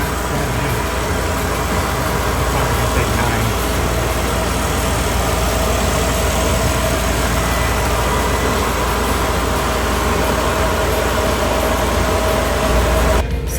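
A 1960 Cadillac limousine engine idles loud and steady as the freshly installed transmission is shifted through its gears, a constant low rumble with no talking.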